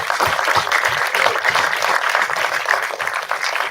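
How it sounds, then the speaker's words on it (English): Audience at a nature film festival award ceremony applauding steadily, a dense wash of clapping from many hands that holds evenly throughout with no voices over it. "a round of applause for them."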